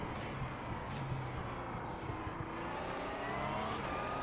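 A GTE race car roars past on the Circuit de Catalunya, a loud, sustained engine drone that swells and climbs slightly in pitch toward the end, with no voices over it.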